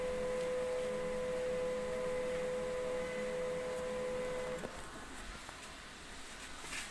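An HP LaserJet 1020 printer powered on and trying to pull in paper, a steady mechanical whine and hum with a tone that cuts off partway, then quieter motor noise, with no talking.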